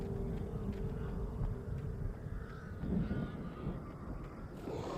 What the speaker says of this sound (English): I feel like the birds are going to come and attack me again in a second.